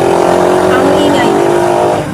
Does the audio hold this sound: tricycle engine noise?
yes